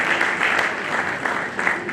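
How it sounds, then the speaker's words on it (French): A gathering of leaders claps for the team of facilitators, with steady, dense applause throughout the short burst, crowded and fairly near, with no speech over it. "Est-ce que nous pouvons applaudir l'équipe de facilitateurs?"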